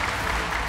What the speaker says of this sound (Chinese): 再一次掌声鼓励，